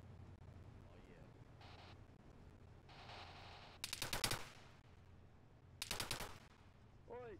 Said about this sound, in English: Don't need to be firing the minigun yet.